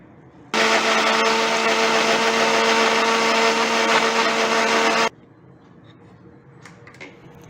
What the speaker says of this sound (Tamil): அடுத்து நம்ம வெட்டி வச்சுருக்க அந்த ஆரஞ்சு பீசஸையும் நம்ம மிக்சிக்குள்ளே போட்டுக்கலாம்.